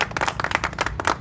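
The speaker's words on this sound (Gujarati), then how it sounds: "જોરદાર તાળી." An audience at a business group event claps in a dense, steady burst of applause, brief and fairly close.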